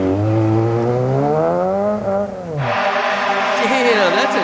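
A rally car on a rally stage revs high with a rising and falling engine pitch, then shifts and roars on loud and close, with a voice talking over it.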